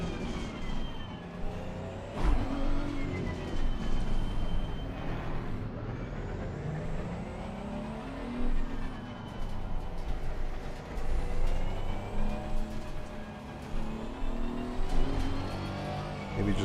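Race car engines at Mount Panorama in the Pro League Racing game, with a Honda NSX Evo among the cars: a continuous loud engine drone that rises and falls through gear changes, with no talk.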